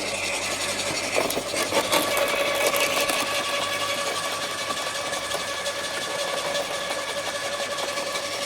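A steady lawn mower drone runs throughout, the close, continuous whine of a small engine cutting last year's dry grass, with a slight surge near the start.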